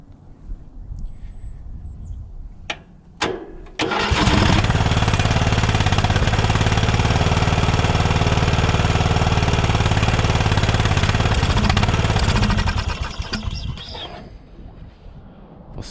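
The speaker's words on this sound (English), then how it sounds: "Motor sounds pretty good on here." An old riding mower engine, abandoned for years, sputters a few times and then catches, roaring loudly and steadily at close range for about eight seconds before dying away.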